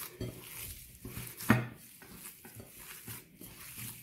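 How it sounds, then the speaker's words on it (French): A rice and minced meat filling is mixed in a bowl, giving soft, close scraping and squishing with one sharp clink of utensil against the bowl partway through, fairly quiet throughout. "Et je mélange bien le tout."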